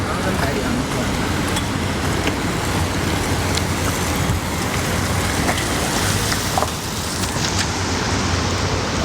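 Steady rain falls outside in a city, a dense even hiss of drops on surfaces with a faint traffic rumble underneath, continuous throughout.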